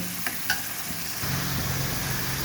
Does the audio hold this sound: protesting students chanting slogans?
no